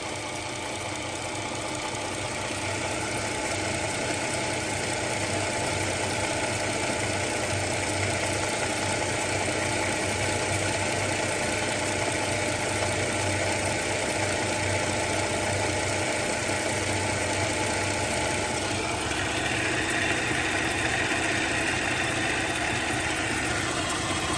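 A 2005 Chrysler 300 Limited 3.5L engine idles at an even, continuous rumble with a faint rhythmic knock from the alternator, heard up close with no talking.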